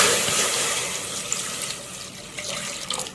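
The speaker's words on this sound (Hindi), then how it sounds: "इसमें हम पानी डाल लेंगे और इसको हम बॉयल कर लेंगे" A steady stream of water pours into a pot of sago before boiling, a loud continuous splashing rush that eases slightly and ends with a few small splashes.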